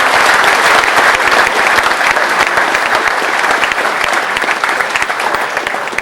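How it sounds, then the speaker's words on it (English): A large room of guests at a Donegal GAA dinner dance breaks into loud, continuous applause, dense clapping sustained evenly from start to finish, close and full. "Give him a round of applause"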